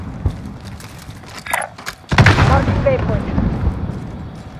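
An RPG rocket explosion in Call of Duty: Warzone, a loud booming blast with a rumbling tail following scattered gunfire and distant voices.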